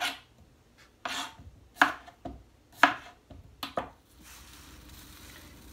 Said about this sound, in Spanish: aquí voy a pelar bien mis papitas y yo les muestro cuando ya las tenga todas cortaditas